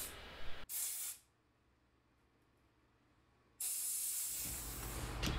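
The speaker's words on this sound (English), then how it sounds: "So I'll rotate the carburetor and keep blowing in there" A compressed air blowgun blasts into a motorcycle carburetor from a Suzuki DR650: a loud, close, steady hiss in two bursts separated by a quiet gap, with no talking.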